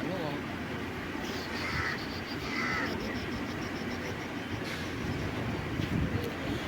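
The MGR Chennai Central Superfast Express, train 12696 bound from Thiruvananthapuram Central to Chennai, pulls away in a steady rumble and rattle, heard from a busy station platform amid a wash of crowd noise.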